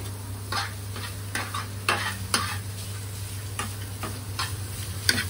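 Paneer frying in a pan as it is stirred, with a low sizzle under a series of sharp scraping and tapping stir strokes close by, over a steady low hum, no talk.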